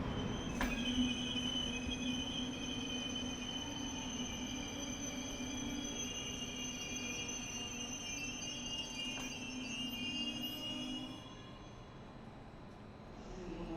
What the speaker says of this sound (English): Arriving about 5 minutes behind schedule is this Bombardier Trax locomotive